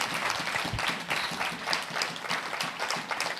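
A church congregation bursts into sustained, dense applause during a prophet's sermon, a steady wash of many hands clapping close and loud, with no speech over it.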